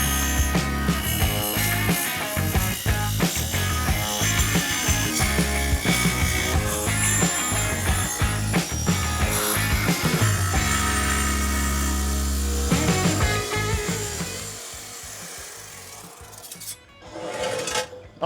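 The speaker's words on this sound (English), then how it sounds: "I'm gonna have to try and hold this material in place while that blade goes through" An IQ Powertools rail saw cuts a miter through material, a loud dense grinding roar with rapid rhythmic chatter that runs steadily before winding down and stopping near the end.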